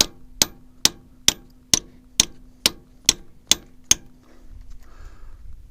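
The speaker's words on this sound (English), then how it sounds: "I am successfully chiseling away the plug" Nine sharp metallic strikes ring out at an even, steady pace as a chisel is hammered into a block heater plug on a 6410 tractor, with a faint steady hum underneath; the blows then stop.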